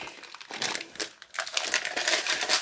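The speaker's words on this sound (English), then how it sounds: "Now we're going to use some of these chocolate chips that I've got. We can open the packet." Crinkly plastic rustles and crackles up close in two bursts with a short pause between, like a packet of chocolate chips being handled and torn open.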